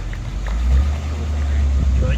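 Engine of a classic car idling at a concours awards pass and review, a low steady rumble close by, with a bit of talk over it.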